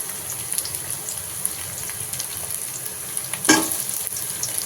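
Oil sizzles in a pan for a Tamil chicken kulambu with moringa drumstick pods, a continuous frying hiss with a brief louder splash of sizzle midway, and no voices.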